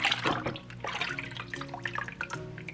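Pork meat is rubbed and washed under running water in a sink, with splashing, dripping and handling noises over a steady flow, close and moderately loud.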